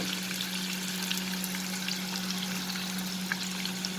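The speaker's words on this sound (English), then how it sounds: "Now I am going to fry these prawns." Prawns frying in hot oil in a karhai over a lowered flame, a steady dense sizzle with a constant hum beneath, even and unbroken throughout.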